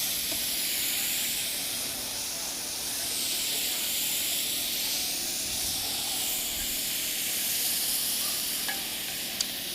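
Steady close hiss and sizzle of beef stock reducing in a hot pan on a celebrity chef's demonstration stage, a continuous bright whoosh of steam with faint clinks, no talking.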